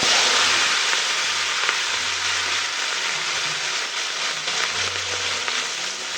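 Panch phoron spice mix and kalonji seeds fry in hot oil in a wok, making a loud, dense, continuous sizzling hiss up close, with a faint low hum underneath and no talking.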